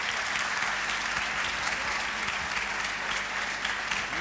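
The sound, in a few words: audience applause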